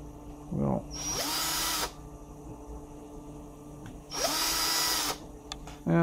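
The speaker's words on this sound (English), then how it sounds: "we'll get a 3 millimeter drill bit" Power drill fitted with a 3 mm bit, working on parts for an IKEA ROTERA LED light, spinning up to a loud high whine in two bursts of about a second each, with short clicks and handling noise between.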